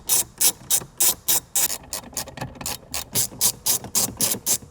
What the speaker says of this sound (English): grab your 10mm socket and ratchet. And you're gonna go ahead and remove 4 10mm bolts